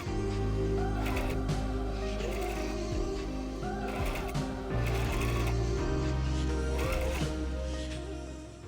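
A sewing machine runs steadily, stitching a bias strip onto a slip dress, with a continuous loud mechanical whir and a few brief pauses and speed changes over about nine seconds.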